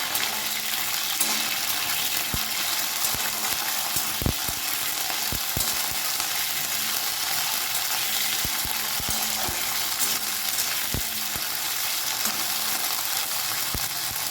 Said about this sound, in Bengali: লাউ শাকে ডাঁটা দিল ভালো করে একটু নাড়াচাড়া করে নেব গ্যাসের ফ্লেমটাকে মিডিয়ামে রেখে